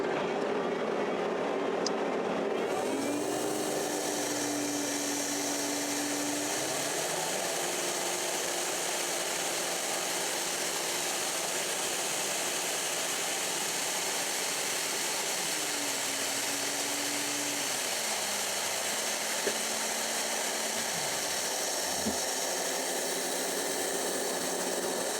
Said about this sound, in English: So we'll put our pressure vacuum pump on.